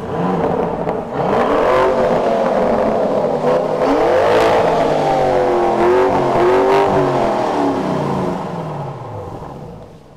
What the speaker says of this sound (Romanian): Hai să auzim și motorul. Da, îmi spuneți să accelerez.